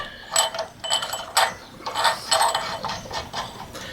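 A ratchet clicks in quick, uneven bursts while a fuel bowl is tightened on a Coleman mini bike, close and fairly quiet, with short pauses between strokes.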